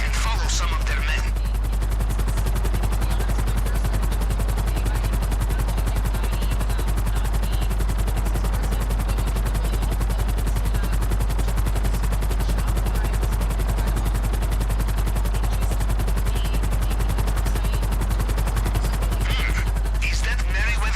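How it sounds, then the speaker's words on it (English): The Merryweather helicopter in GTA V gives a loud, constant low rotor drone that lasts throughout, with rapid bursts of gunfire layered over it. "Is that Merryweather copter I see on the radar?"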